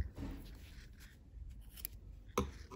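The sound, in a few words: scissors cutting cord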